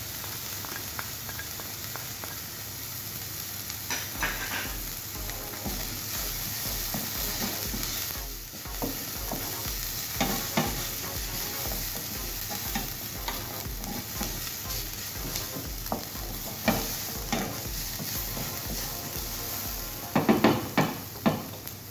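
Garlic sizzles in a frying pan for beef mechado, a constant close frying hiss under repeated scraping and stirring knocks of a utensil against the pan.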